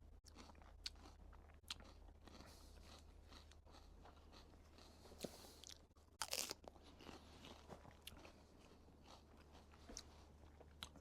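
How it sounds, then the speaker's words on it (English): Raw fresh garden peas being eaten straight from the pod, with close, crisp crunching and chewing in irregular bites over a quiet background. "Sorry, I'm just grazing on these peas."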